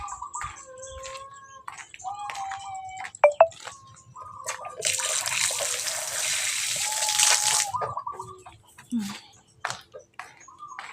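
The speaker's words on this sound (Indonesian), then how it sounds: "Oh iya, aku tak cuci tangan" Running water from a tap splashes steadily for a few seconds during handwashing, with drips and small squishy sounds before and after, and a voice speaking nearby.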